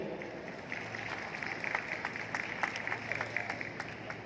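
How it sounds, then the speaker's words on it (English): A crowd at a corporate property handover ceremony applauds at a distance, a steady patter of many hands clapping, with faint murmuring underneath. "join me and make a big round of applause for Pearlz by Danube."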